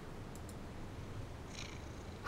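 A cat in Grim Tales 9 purrs softly and steadily, a low continuous rumble with a faint chirp near the start and a brief airy sound toward the end, with no talking.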